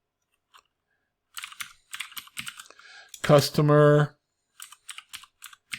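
Computer keyboard keys tapped in short bursts while building a table, separate clicks spaced across a few seconds, with a brief spoken word in the middle.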